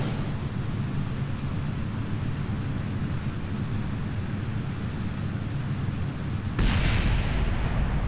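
A rocket launch in the Kerbal Space Program game roars as a dense, steady low rumble that holds throughout and swells slightly louder near the end, with no voices.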